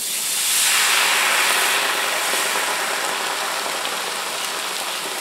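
Steady, loud sizzling hiss of white wine boiling in a hot pan with flour for veal or chicken piccata, swelling early and then holding as an even, close crackle.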